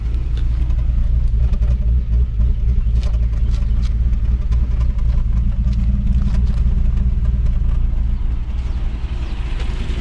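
Cammed sleeper car engine idling, a steady deep rumble with a slightly uneven lope, close and continuous with no talking over it.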